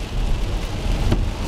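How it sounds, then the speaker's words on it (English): Heavy torrential rain pours down steadily in a dense, constant roar of wide-band hiss with deep low rumble, close and loud throughout with no voices. "Just straight rain, like torrential downpours."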